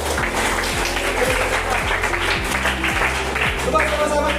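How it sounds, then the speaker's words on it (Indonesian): Classroom group clapping for students standing up, steady mid-level applause over a constant low hum and background chatter. "tepuk tangan kelompok 3 dulu"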